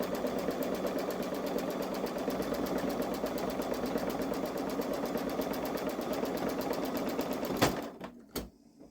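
A Babylock Solaris embroidery machine stitches an in-the-hoop design on stabilizer with a steady, fast, close mechanical chatter that runs evenly for about seven seconds, then stops, leaving a couple of faint clicks.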